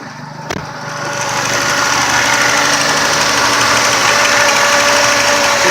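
A Ford Taurus 3.0 V6 idles roughly after its idle air control valve was cleaned, a steady close engine drone with a faint shaky unevenness that swells slightly after a sharp click.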